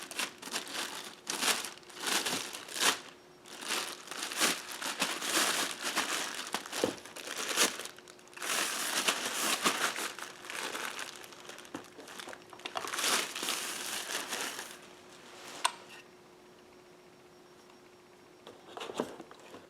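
A plastic bag crinkles around a Tikka T3X TAC A1 rifle in 6.5 Creedmoor with a 24-inch barrel as it is unboxed. Close, repeated rustling bursts run throughout before easing into a quieter stretch near the end.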